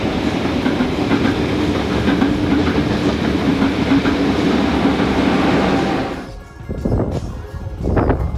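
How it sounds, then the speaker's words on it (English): An XPT passenger train on the Sydney to Melbourne line roars past at speed through Gunning, a loud continuous rumble and clatter of wheels that suddenly drops away, leaving faint rattles behind. "who captured my train roaring through Gunning"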